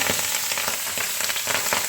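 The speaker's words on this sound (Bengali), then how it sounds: "এইবার মাছগুলোকে একটা একটা করে ভেজে নেব" Pabda fish fry in hot oil in a pan, a continuous close crackling sizzle with rapid spitting pops, heard alone without voices.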